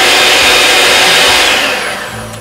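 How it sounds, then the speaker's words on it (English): A cheaper kitchen stand mixer runs continuously with a loud, whining motor and gear noise, steady and close, easing slightly toward the end with no talking. "the cheaper mixer."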